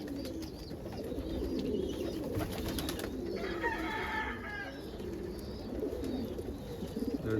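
Pigeons and other birds coo and flutter steadily while eating corn scattered for them on a morning feeding, with soft wing flaps and pecking nearby and a constant outdoor background.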